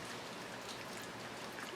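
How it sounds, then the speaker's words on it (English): Steady rain falls outside during several days of wet weather, a soft, even, distant hiss with no voices. "it's been raining for about 3 days"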